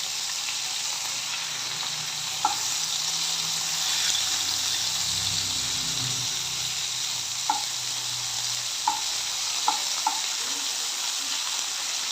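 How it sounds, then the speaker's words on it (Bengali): Chopped onion frying in oil in a pan, a continuous bright hiss of sizzling with a few faint clicks of a spoon scattered through. "একটা প্যানে তেল আর পেঁয়াজ কুচি দিয়ে দিয়েছি"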